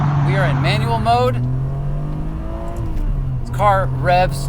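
A 2003 Ferrari 575M engine revs while driving in manual mode, its pitch climbing and falling through gear shifts, loud and close, with someone talking over the engine at times.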